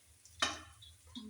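Poha drops into a pan of fried onions with a short sizzle and a scraping stir, followed by a faint sizzle and the light clink of a spoon, heard close and alone.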